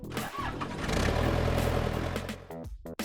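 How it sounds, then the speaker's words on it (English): A backhoe's engine cranks and starts, swelling into a loud, close diesel roar, then sputters and knocks as it settles. "Backhoe."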